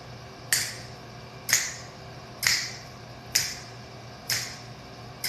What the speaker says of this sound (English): Finger snaps.